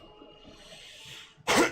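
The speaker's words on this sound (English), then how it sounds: "Pardon my cough." A single sharp cough near the end, close and loud, following a quiet stretch of faint background tones.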